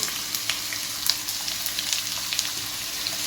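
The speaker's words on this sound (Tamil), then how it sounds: "இதையும் லைட்டாக கோல்டன் கலரில் ஃப்ரை பண்ணிடலாம்" Sliced small shallots and garlic frying in a pan for a spicy garlic chicken roast, a steady close sizzle with small crackling pops throughout and no talking.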